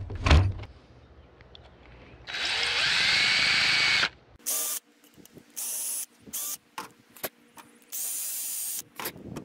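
Cordless power drill run in short bursts at a 1998 Jeep Cherokee XJ repair, starting with one long whir and then several brief, loud trigger pulls separated by quiet gaps, with no talking.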